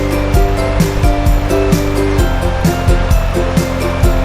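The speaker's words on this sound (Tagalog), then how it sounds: "Nakaka-relax yung sound ng ilog" A river flows steadily through Australian countryside, a continuous broad rushing wash with gentle surges and no voices over it.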